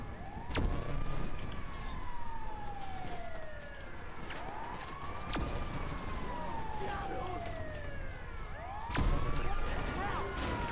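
A wailing siren sweeps up and down repeatedly in GTA V Online, loud and close, while a player talks over it.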